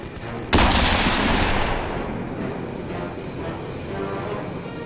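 Gunfire from a war film battle with a sniper, a sharp loud report followed by a long rumbling decay and sustained noisy echo, with no distinct rapid machine-gun bursts standing out.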